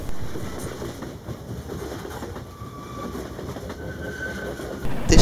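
A 700-ton passenger train rolls along the tracks at speed, giving a continuous rumbling clatter with faint wheel squeals and a louder surge as it nears at the end.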